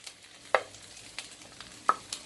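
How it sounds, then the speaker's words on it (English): Potatoes, brinjal, pumpkin and radish cubes frying in a pan, giving a faint, steady sizzle with a couple of sharp clinks of stirring, close by and with no talking. "So I've put the potatoes in to fry"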